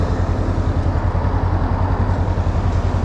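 A Honda CMX500 Rebel motorcycle engine idles in neutral at a standstill, a steady low rumble that stays close and even for the whole stretch, with no talking over it.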